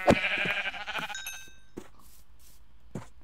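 A Minecraft sheep bleats loudly once at the start with a wavering, nasal call, followed by a few soft clicks and game blips as animals are gathered on a farm.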